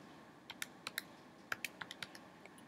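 Calculator keys pressed one after another to enter an algebraic expression: about ten quick, crisp clicks, close by, arriving in short irregular bursts with no talking.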